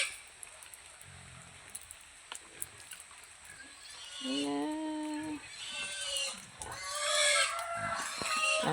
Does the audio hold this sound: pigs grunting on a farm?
yes